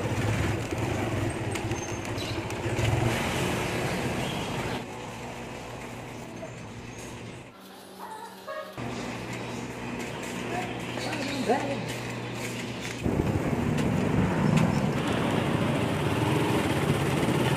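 Road traffic with cars and motorcycles around a tricycle, a continuous rumble of engines and passing vehicles, loud and close, with people talking over it.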